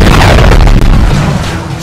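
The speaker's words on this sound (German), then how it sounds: "alle Wagen im Umkreis explodieren" Heavy, booming explosions of cars blowing up in the video game GTA 3 roar continuously, loud and low, one blast rolling into the next with a brief dip midway.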